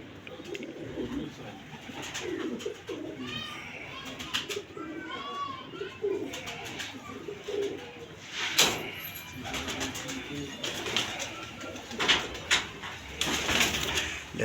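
Pigeons cooing in soft repeated bursts at a pigeon loft, close by, mixed with low rustling, wing noise and occasional sharp knocks, with faint voices in the background.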